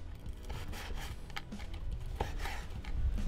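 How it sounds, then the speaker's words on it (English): A knife slicing through cooked bacon on a cutting board, a steady run of soft scraping, rubbing cuts close by, with no talking over it. "We're just gonna cut it up a little bit."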